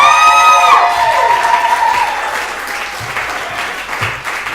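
Academic conference after-dark show audience breaks into loud applause with some cheering, a dense crowd roar that fades slightly over several seconds.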